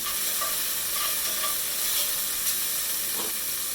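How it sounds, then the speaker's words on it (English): Salt and pepper shrimp sizzle and fry steadily in a hot pan while being stirred, a loud continuous hiss with soft scraping throughout and no talking. "So stir that around a little bit."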